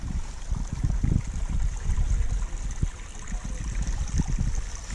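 Water running out of a brown pipe and flowing downhill at a campsite, a steady close gurgling rush with bubbling low splashes throughout, no speech.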